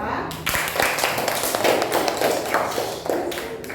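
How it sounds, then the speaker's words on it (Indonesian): Clapping from a classroom of students applauding a presenting discussion group, a dense patter of hand claps spread across the room with voices mixed in, steady and fairly loud throughout. "Tepuk tangan bagi kelompok 2"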